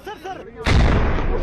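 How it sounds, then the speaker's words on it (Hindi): A bomb blast in a vehicle repair market, where explosives were hidden in scrapped cars, hits suddenly as one loud, close boom with a rumbling tail after a moment of faint background voices. "एक धमाका कैमरे में कैद भी हो गया।"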